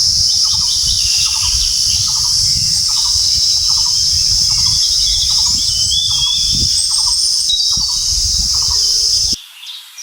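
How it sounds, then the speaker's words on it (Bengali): A baby parrot calls in a garden with a steady string of short, evenly spaced chirps over a loud, constant insect drone and higher twittering birds. The chirps carry through nearly the whole stretch before cutting off near the end. "যে টিয়া পাখিটা, দেখো বাচ্চাটা দেখো।"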